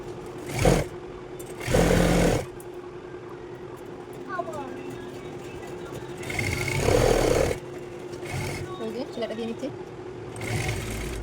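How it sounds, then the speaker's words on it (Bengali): A sewing machine runs the side seam of a churidar in short, whirring bursts, separated by pauses while someone talks over and between the stitching. "চলো এবার এই সাইডটা সেলাই করে নিই জয়েন করা হয়ে গেছে এবার সাইডের সেলাইটা কিন্তু দিয়ে নেব"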